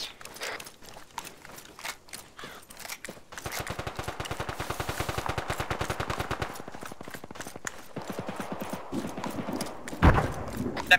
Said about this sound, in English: That marksman is still shooting at me, he hit me once.